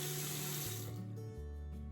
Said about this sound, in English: there's water leaking out of this side.